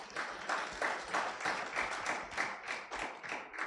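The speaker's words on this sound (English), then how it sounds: "I thought we would clap for that." An audience at a business event claps in honour of a female regional board leader, a fairly faint, even patter of many hands pulsing steadily with no voices on top.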